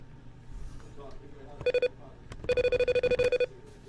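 Keypad tones of a phone dialing a call, a short burst of beeps followed by a longer run of evenly spaced tones, loud over a murmuring background of room noise during a live stream.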